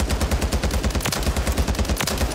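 Rapid automatic weapon fire in Warzone, a steady stream of loud, evenly spaced shots bursting without pause over dense battle noise, with no voices.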